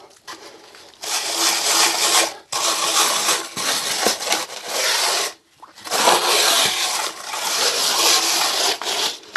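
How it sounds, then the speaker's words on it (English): A float scrapes and rubs dry plaster mix into small gaps and holes in a floor, loud rasping strokes in several long sweeps separated by short pauses. "And you rub them in with a float."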